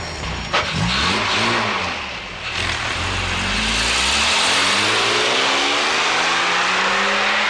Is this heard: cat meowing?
no